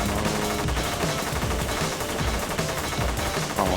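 Rapid, steady machine-gun style shooting from the space shooter game Stardust Galaxy Warriors: Stellar Climax, a dense unbroken stream of blasts at constant loudness.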